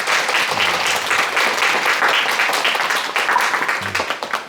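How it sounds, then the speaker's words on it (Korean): An audience claps loudly at a Buddha's Birthday dharma talk, producing dense, sustained applause from a crowd that carries on evenly before easing slightly at the end. "너무 좋은데 큰 박수 한번 부탁드립니다."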